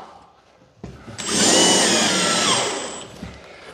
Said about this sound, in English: So we'll get some screws in this bottom one now.